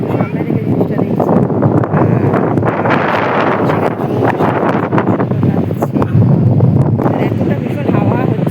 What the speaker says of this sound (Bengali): এতটা ভীষণ হাওয়া হচ্ছে না, ফোনটা ধরে রাখা একদম ডিফিকাল্ট